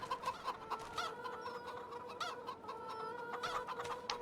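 Chickens cluck repeatedly in a farming video game, short bursts of clucking over a steady background hum of game ambience, moderately loud with no talking.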